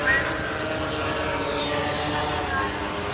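A CST Super Scooters racing scooter passes at speed at Cadwell Park circuit, a sustained buzzing engine drone at steady loudness with a faint swell as it goes by, with race commentary nearby.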